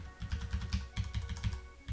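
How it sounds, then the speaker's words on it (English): Fast, clacky typing on a loud keyboard, steady rhythm of keystrokes up close with no voices. "Loud keyboard."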